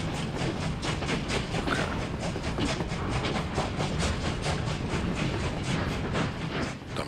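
A train departs in Workers & Resources with a dense, steady rhythmic clatter and hiss, loud and continuous, with one brief spoken word.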